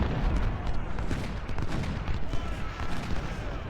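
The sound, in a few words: rifle fire in video game Ultimate General: Civil War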